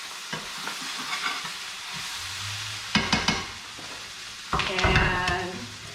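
Metal utensil scraping and tossing fried ramen noodles in a hot pan, with a soft sizzle throughout and two louder bursts of clattering scrapes near the middle and end.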